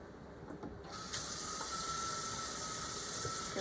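A kitchen faucet opens with a brief clunk, then water runs in a steady close splashing stream over drained canned ground beef in a sink, with no talking.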